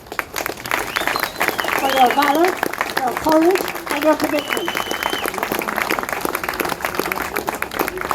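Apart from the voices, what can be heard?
crowd applauding at cost of living demonstration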